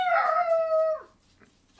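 A dog gives a single close, loud howl lasting about a second, its tone sliding down before fading into quiet room noise.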